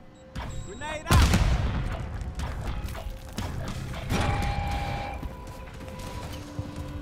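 Call of Duty multiplayer combat: a heavy grenade boom opens, followed by scattered gunfire, mechanical clatter and a second explosion, with in-game chatter in the background.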